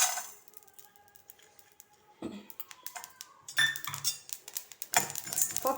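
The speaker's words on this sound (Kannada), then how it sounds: "ಈಗ ನಾವು ಎಳ್ಳು ಹಾಗೆ ಹುರ್ಗಡ್ಲೆ ಹಾಕ್ಕೊಳ್ಳೋಣ." Sesame seeds and roasted gram are tipped into a hot pan, giving close, dense rattling patters and clicks of small grains striking metal in uneven bursts, with no talking.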